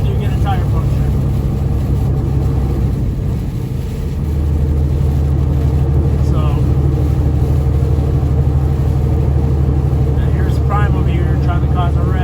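A car cruising along a highway in the middle lane, a loud steady engine and road drone with constant low rumble, a driver talking over it.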